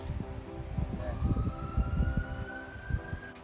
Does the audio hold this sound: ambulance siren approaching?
yes